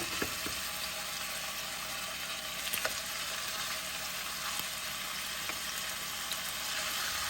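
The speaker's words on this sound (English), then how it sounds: "My oil in the pan is pretty well heated, so what I'm gonna do is place my ribs in it over medium heat, not too high." Pork baby back ribs brown in hot oil in a pan over medium heat, giving a steady, soft, even sizzle with a few faint pops. No one speaks over it.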